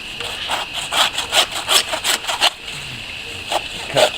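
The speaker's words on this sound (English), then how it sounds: "I'm going to split it down the middle with this bone saw." A hand bone saw rasps through a ram carcass in rhythmic back-and-forth strokes, close and fairly loud, pausing briefly before a few more strokes.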